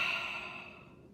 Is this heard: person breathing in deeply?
yes